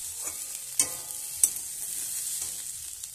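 Chopped green chillies frying with turmeric in a pan, a steady moderate sizzle punctuated by a few sharp scraping knocks of a spatula stirring against the metal.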